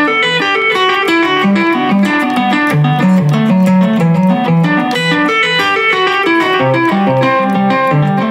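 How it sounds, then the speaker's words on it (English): Electric guitar plays a steady picked pattern, each note trailed by dotted-eighth delay repeats that fill the gaps, continuous and fairly loud with no voices. "set your delay so that it repeats on the dotted eighth note"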